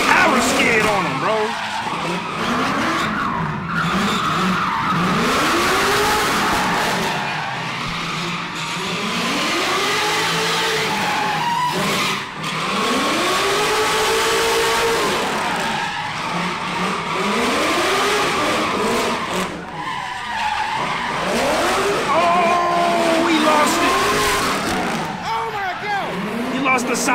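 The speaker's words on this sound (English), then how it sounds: "Look at that power skid on him" A car doing a power skid, engine revving in repeated rising sweeps with tire squeal and skidding noise, loud and sustained, with voices talking over it.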